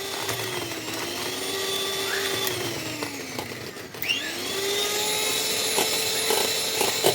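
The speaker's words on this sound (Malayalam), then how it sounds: "അപ്പോൾ എഗ്ഗും ഒരു പിഞ്ച് ഉപ്പും പഞ്ചസാര പൊടിച്ചത് കുറേശ്ശെ ഇട്ട് നമുക്ക് നല്ലോണം ബീറ്റ് ചെയ്തെടുക്കാം" Electric mixer beating egg with a pinch of salt and powdered sugar for biscuit dough, a continuous whirring motor hum whose pitch dips and rises, close and steady with no talk.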